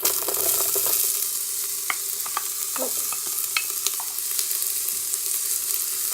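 Onions added to the smoking hot pan of a Morphy Richards soup maker on its saute setting sizzle steadily, with a few scraping stir clicks over the constant frying hiss.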